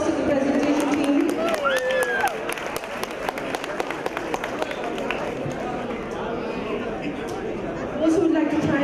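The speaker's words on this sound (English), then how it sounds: "can you please give a round of applause to the presentation team?" Audience applause for a presentation team at a Rotary club installation ceremony, steady clapping from a crowd mixed with chatter and voices throughout.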